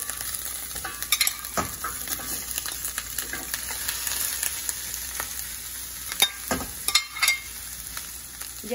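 A strip of pork rind (chicharrón) fries in a pan with a continuous bright sizzle, broken by sharp scraping and knocking stir strokes of a spoon, heard up close.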